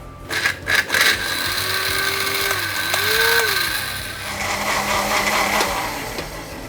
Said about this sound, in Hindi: अब इसे कवर करके हम कर लेंगे ब्लेंड